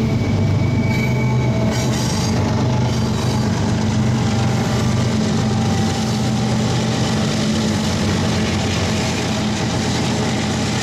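Freight train 14R hauled by BNSF and Union Pacific GE locomotives rolls past close by, a loud steady rumble of wheels and railcars with squealing wheels and clattering joints, no voices.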